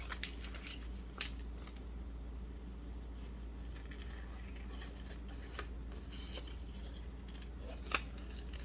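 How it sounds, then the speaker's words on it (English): Scissors snip through paper ephemera for a fall junk journal, with sharp, close cuts spaced irregularly over a low steady background hum. "So now I'm going to cut these out really quick."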